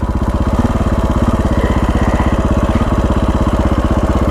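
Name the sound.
KTM 525 dual sport motorcycle engine while riding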